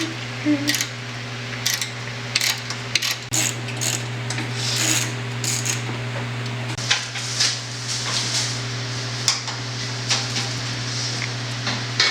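Repeated rasping strokes of fine-grit sandpaper rubbed across a car headlight lens on an E36, close and steady, with a constant low hum running underneath throughout.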